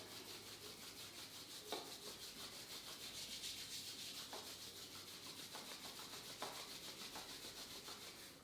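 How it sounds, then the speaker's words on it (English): Palms rub together in a steady back-and-forth swish, soft and close, continuous for several seconds with a few slightly louder strokes and no talking. "Maybe rubbing your palms together."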